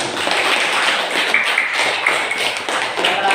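A class of students claps hands in a quick, dense patter that runs steadily for a few seconds at close range, with no talking over it.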